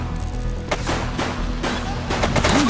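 A police officer's gunshots in the video game The Precinct: a few sharp, close reports crack out over steady background noise, the shots spaced irregularly within a couple of seconds.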